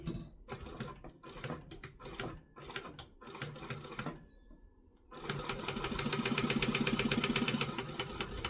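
Sewing machine stitching fabric for a kangaroo sewing project, first in short stop-start bursts of rapid mechanical chatter with pauses, then a longer sustained run of fast, even stitching, close and clear with no talking.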